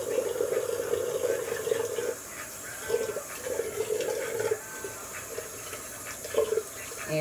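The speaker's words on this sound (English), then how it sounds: "I'm gonna wash that little bit of pink off of my finger real quick" A tap running steadily into a sink while pink hair dye is washed off a finger, a continuous close splashing flow with slight changes as the hand moves under the stream.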